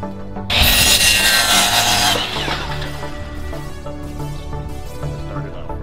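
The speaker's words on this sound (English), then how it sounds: "So I'm gonna cut it with the chop saw." A chop saw cuts through a piece of wood in the garden, starting abruptly with a loud, bright whine that lasts about two seconds before the blade spins down into a quieter lingering hum.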